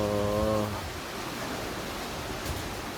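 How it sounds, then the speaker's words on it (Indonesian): Strong wind gusting across an open microphone in Malang, a loud rushing roar that buffets briefly at the start, then settles into a steady broadband blast. "anginnya kencang sekali"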